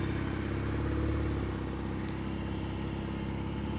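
A Royal Enfield Mk1 Interceptor motorcycle pulls away near Babbacombe Downs, a steady, close engine drone with a low throb that holds fairly constant, no talk over it.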